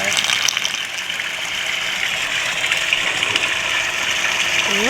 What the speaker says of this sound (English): we're going to use the pool vacuum to suck it back up anyways. We're going to dump it directly into the vacuum.